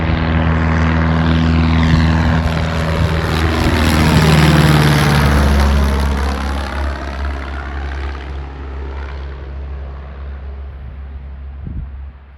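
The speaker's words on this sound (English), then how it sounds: "here's the second plane taking off out of here" A small propeller plane roars close by taking off from Lost River Airport, its engine pitch sweeping as it passes and climbs away, then fades into the distance.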